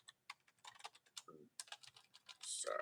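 Quick, light typing on a computer keyboard, an irregular run of soft key clicks with a few brief pauses, close and quiet.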